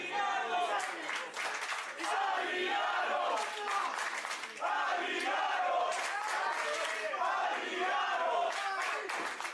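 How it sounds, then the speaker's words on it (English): A pro wrestling crowd roars and chants to urge on a wrestler, loud dense cheering with shouts and scattered clapping, while a commentator's voice runs underneath. "The crowd willing on Adriano"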